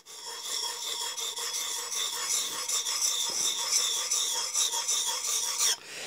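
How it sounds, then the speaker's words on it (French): A blade is sharpened on an oiled sharpening stone clamped in a vise, producing continuous rhythmic rasping strokes, close and steady for several seconds before stopping abruptly. "Donc, on cale la pierre sur un étau. On met de l'huile."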